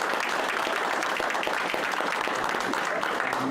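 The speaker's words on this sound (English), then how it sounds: "So a round of applause for all of them." An audience at a borough council meeting applauds a group of local boys being recognised, a continuous, fairly loud clatter of many hands with faint voices mixed in.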